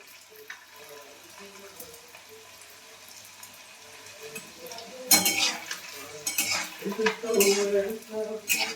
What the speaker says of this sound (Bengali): এগুলো একে একে ভেজে নিই